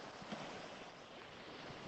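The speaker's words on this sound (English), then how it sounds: "You're probably hearing only the waves now." Ocean waves at Mission Bay beach make a faint, steady wash of surf with a slight swell, heard alone without voices under a soft breezy hiss.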